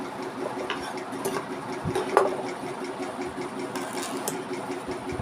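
A sewing machine runs steadily over a wide strip of fabric in one pass, giving a moderate mechanical hum with small clicks and a brief louder knock partway through.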